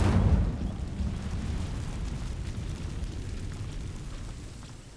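Incendio fire spell igniting dry vines in the Hogwarts Legacy video game: a loud burst opens the clip, then a dense low crackling roar of flames carries on steadily and fades slightly by the end, with no talk.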